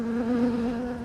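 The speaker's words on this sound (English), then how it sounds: "a bee is crawling out of it" A honey bee buzzes up close as it crawls out of a queen marking disc, a steady, loud, even drone lasting about a second with no talking.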